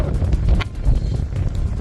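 Gusty wind buffeting the microphone during rain and cold at Elitne, Ukraine, a steady low rumble that swells and fades in uneven gusts.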